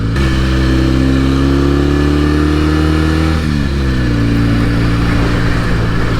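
A 1968 Norton Commando 750 motorcycle engine runs loud and close on a riding road, a steady throbbing drone whose pitch climbs, dips briefly as the gear shifts and then settles into a slightly lower steady note.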